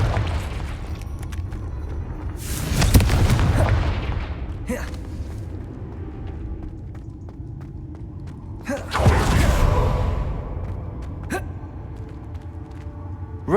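Two bursts of the Confringo fire spell explode in Hogwarts Legacy, each a loud broadband whoosh and boom that decays over about a second, with fainter game sounds and sharp clicks in between.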